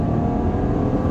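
A 2019 Porsche Cayenne with a 3.0 V6 accelerating hard, heard as a loud, steady engine drone with road roar, close and continuous, with no one talking.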